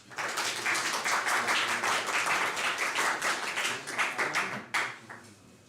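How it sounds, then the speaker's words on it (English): An audience at a DevFest developer conference applauds a presenter, a loud, full burst of many hands clapping that holds steady for several seconds, then thins out and quickly dies away near the end. "Big applause, please."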